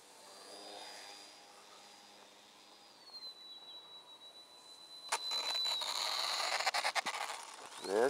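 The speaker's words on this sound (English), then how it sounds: "We'll bring her in for a safe landing." Small Nutball RC model plane flying in to land in light fog: a thin, steady motor whine hums at a distance, then grows louder and rougher with buffeting wind noise as it comes close.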